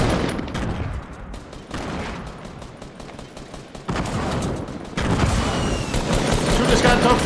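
Grenade blasts and gunfire in the video game Fortnite, dense bursts of shots and booms layered throughout, growing louder toward the end, with players talking over the action.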